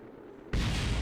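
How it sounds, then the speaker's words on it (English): Parts of a spacecraft blow apart from reentry heating in Kerbal Space Program, a sudden loud, broadband explosion boom that cuts in midway and roars on with a dense rumbling tail. "Oh, explosion!"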